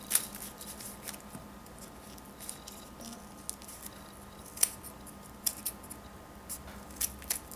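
Scissors snip through a thick stack of paper sheets while paper flowers are being made, giving soft, irregular crunching cuts that come at a slow pace and sound faint and close in a quiet room.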